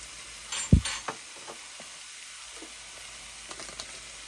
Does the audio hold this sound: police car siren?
no